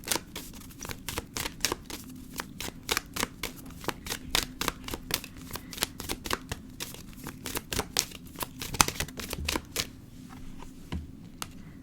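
Oracle cards being shuffled by hand for a reading, a fast run of crisp riffling flicks and taps repeating in quick succession, close and quiet, ending in a few slower pats near the end.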